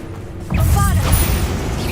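Bombarda blasting spell in the video game Hogwarts Legacy, a sudden heavy boom with rumbling debris and a bright magical shimmer, loud and close, over a short burst lasting about a second and a half.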